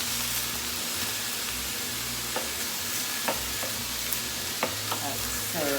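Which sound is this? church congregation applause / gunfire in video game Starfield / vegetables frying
vegetables frying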